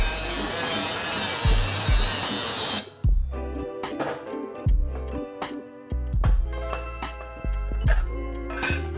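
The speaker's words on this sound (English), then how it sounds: "We're just gonna cut this little, I guess you would call that a fender of sorts. Just cut that off for a cleaner look." A power tool cuts off a small fender on a Triumph Bonneville being rebuilt as a flat track bike, first in a steady loud grinding burst, then in short, choppy bursts of cutting and clattering.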